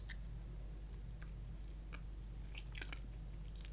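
Someone chews a piece of Jaffa glogg sponge cake with red marmalade filling, producing soft, irregular bites and crunchy mouth sounds close to the mic over a steady low hum, with no talking.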